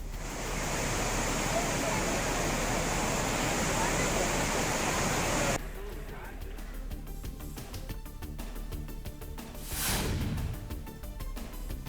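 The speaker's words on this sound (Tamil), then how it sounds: "தொடர்ந்து 6வது நாளாக குற்றால அருவிகளில் வெள்ளப்பெருக்கு." Courtallam falls in flood roar as a dense, steady rush of water, loud at first, then lighter and mixed with other sounds.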